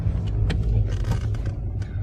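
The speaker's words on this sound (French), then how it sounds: "Là, la voiture commence à avancer." A car in first gear creeps off from a standstill as the clutch is let out at about 1500 rpm, its steady low engine rumble continuing close and fairly loud with no talk.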